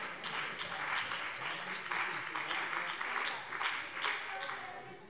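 Applause in a Hessian state parliament plenary session during a debate on a school law amendment, moderately faint, continuous clapping from the chamber lasting several seconds with a voice faintly under it.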